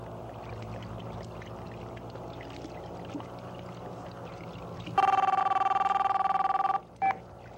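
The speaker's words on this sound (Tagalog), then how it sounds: "Telepono, para sa inyo." A bright electronic telephone ring sounds for about two seconds, then a short second burst, over a quiet rumbling background.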